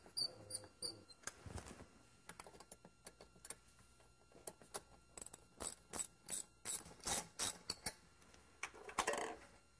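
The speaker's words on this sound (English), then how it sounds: "take the air hose off. And also take our clamp off the throttle body" An air hose clamp comes off a car engine throttle body with a string of close, sharp ratcheting clicks and metallic snaps, sparse at first and then quicker in irregular bursts, faint overall with no talk.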